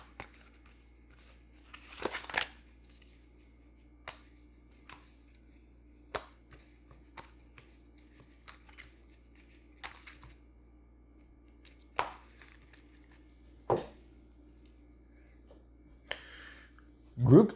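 Tarot cards shuffled by hand in a quiet room, giving scattered soft riffles, taps and crinkly flicks at irregular intervals, faint and close.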